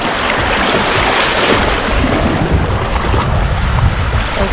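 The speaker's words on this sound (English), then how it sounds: "Did you hear the sound of the waves?" Ocean waves wash steadily onto Las Salinas beach in Ibiza, a continuous loud roar of surf mixed with wind buffeting the microphone, with no voices.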